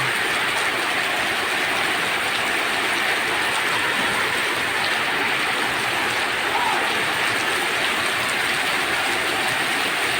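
Continuous dense hiss of heavy rain pouring steadily in strong wind, a loud unbroken wash of sound throughout, with flooding nearby.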